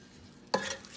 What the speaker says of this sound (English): Stir this up real good so that the spices are